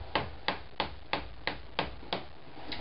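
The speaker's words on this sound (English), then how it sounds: "I'm just going to use a chisel and a mallet." A mallet drives a chisel into wood with about nine crisp, evenly spaced knocks, close and clear, with no talking.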